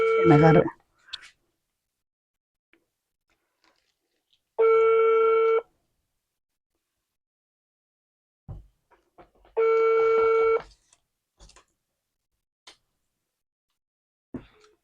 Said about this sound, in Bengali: দুইবার ফোন দিলাম বড় ভাই ধরেনি